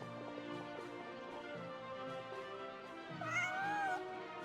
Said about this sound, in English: Northland Cat.